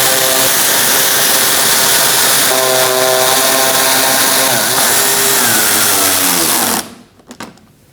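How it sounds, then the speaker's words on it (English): A 10mm tool, apparently powered, tightens the front inner fender liner screws on a 2020 Toyota Corolla. It gives a loud, steady mechanical whir for about seven seconds, then cuts off abruptly, leaving a few faint clicks. "I'm going to use a 10mm and tighten these down."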